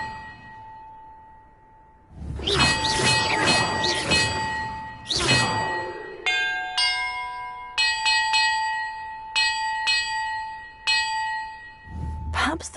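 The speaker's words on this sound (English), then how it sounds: "the order I'm supposed to ring the bells in" Bells ring in a Harry Potter wizarding video game, struck one after another in a run of bright clanging dings, each note hanging and fading before the next, loud and close.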